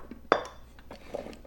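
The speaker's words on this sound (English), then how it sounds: "I'm going to add our vegetables to the roasting pan" Vegetables dumped into a roasting pan in a home kitchen, one sharp clattering impact followed by a few softer shifting knocks, fairly close and moderately loud.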